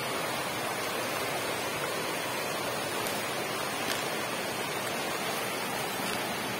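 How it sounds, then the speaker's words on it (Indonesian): Steady broadband rush of a river flowing through humid Kalimantan forest on Mount Bawang, a continuous even wash of water that stays constant throughout, with no voices. "Nah, itu aliran sungainya."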